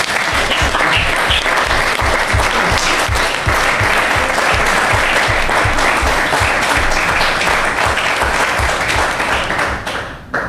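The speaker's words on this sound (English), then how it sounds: "I would actually like to invite you to join me in applauding Stefania and her whole team." Steady, loud applause from a conference audience at an academic session, dense clapping sustained for about ten seconds before tapering off at the end.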